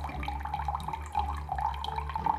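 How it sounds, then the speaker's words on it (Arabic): Water trickles slowly and steadily from a plastic drink dispenser in a kitchen, a soft continuous pouring stream with faint splashing and no voices. "هو بينزل ميه"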